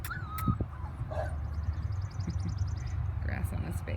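A Standard Schnauzer puppy, a black male, gives faint whimpers and short yips over steady outdoor background noise, with a voice speaking nearby.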